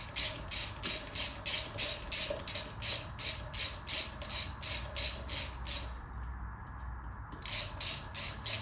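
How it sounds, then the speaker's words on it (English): A hand ratchet drives steel front brake rotor bolts, clicking in a fast steady run of sharp repeated pawl ticks, pausing briefly near the end before resuming, with no talk. "I'm just running these all in just with a ratchet"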